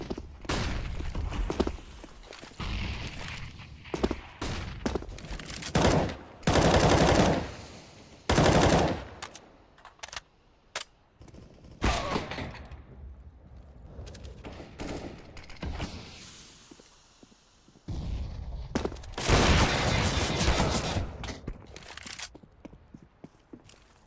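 Rifle gunfire from M4, AK-47 and FAMAS weapons in a Counter-Strike: Global Offensive esports match at the IEM Katowice 2018 qualifier, heard as several loud automatic bursts and fusillades separated by quieter stretches.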